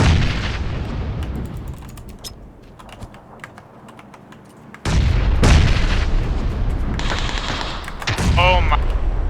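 Video game gunfire, with rapid clattering shots mixed with keyboard typing, a quieter lull, then louder booming bursts and continued firing toward the end.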